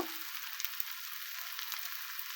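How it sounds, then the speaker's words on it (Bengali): Mixed sea fish fry in a pan, giving a soft, even sizzle that holds steady over a couple of seconds, faint and without speech. "হয়ে গেল আমার সাগরের পাঁচ মিশালি মাছ ভাজা"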